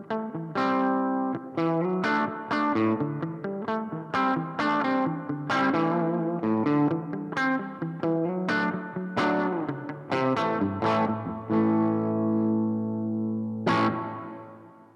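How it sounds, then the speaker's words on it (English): An electric guitar played through a Marshall MG2CFX amp, strummed chords and single notes ringing out with a spacious reverb tail, one final chord decaying alone. "you'll hear reverb start to come in now as well"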